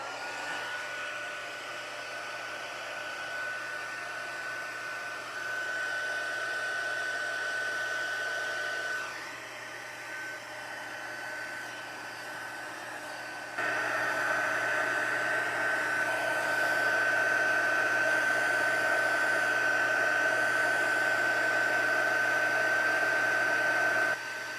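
A heat embossing tool blows hot air over stamped ink, giving a steady whining, hair-dryer-like roar that briefly drops in level mid-way, then returns louder and holds.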